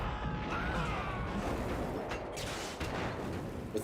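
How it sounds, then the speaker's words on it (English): Stock explosion sound effect from the video game Metal Gear Solid 2, a dense rumbling blast with crackling debris that sustains steadily for a few seconds, moderately loud, with no talking. "With the stock explosion sound."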